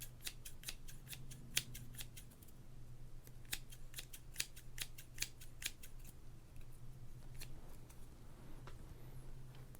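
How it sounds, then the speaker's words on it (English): Crisp, rapid snips of scissors cutting through stiff baseball cards, in quick runs with brief pauses, close and quiet over a low hum. "the sounds of scissors and the cutting of baseball cards"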